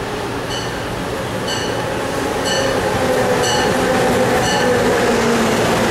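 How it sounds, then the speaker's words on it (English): Train pulling into a suburban commuter rail station platform, MBTA or Amtrak, with a steady loud rumble of rolling cars and a repeating high-pitched ringing or squeal roughly once per second, growing slightly louder as it nears. "Train approaching. Please remain behind yellow line."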